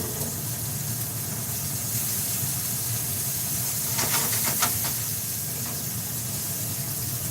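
Salted onions sizzling in a pan over medium heat, a steady broad hiss that holds evenly throughout, with a few brief crackles near the middle and no talk.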